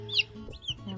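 Newly arrived Brahma and buff hens cluck softly in a henhouse, a few short close clucks and a brief higher squawk with no talking.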